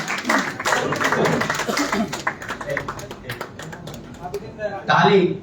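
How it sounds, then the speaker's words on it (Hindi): Applause from an audience at a Hindi poetry award and book-launch ceremony, a steady dense patter of clapping running throughout with a brief louder swell near the end, mixed with crowd noise and voices. "जोरदार तालियां।"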